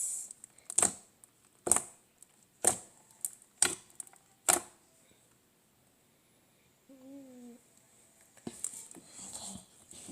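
Clear slime gives five sharp, evenly spaced clicks close up, followed by a brief tonal squeak and then softer sticky crackles.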